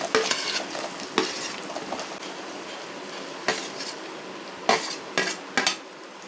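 Small onions sautéed in a pan for pepper chicken fry, with a steady soft sizzle under repeated scraping stirs and sharp metallic clinks of a spoon against the pan, close and without talk.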